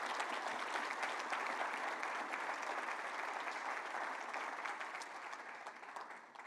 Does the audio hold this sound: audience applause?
yes